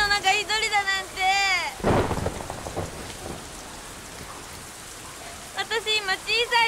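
Heavy rain pours steadily through a storm with a low rumble of thunder, while someone speaks in Japanese over the downpour at the start and end.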